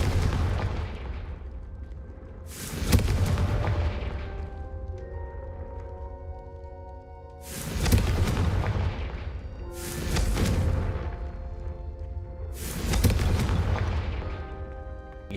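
Spell explosions in a video game boom out as four heavy blasts, each with a long rumbling decay, spaced a few seconds apart with quiet gaps between.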